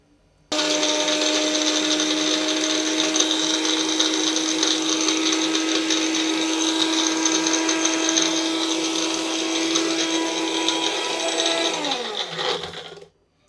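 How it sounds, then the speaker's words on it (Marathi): A Nutri-Blend electric mixer grinder blends chutney ingredients in its jar, starting abruptly into a loud, steady high-pitched whirring roar for about twelve seconds before winding down and stopping. "भांड्यामध्ये सगळं चटणीचं साहित्य घातलं आहे. आता आपण मिक्सरला लावूया."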